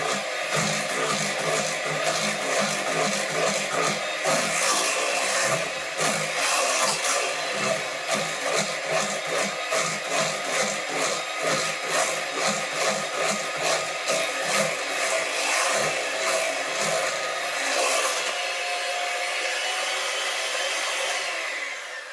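Electric hand mixer whirring steadily through lemon buttermilk pound cake batter in a bowl, a continuous close motor drone with faint rhythmic scraping for about twenty seconds, no talking.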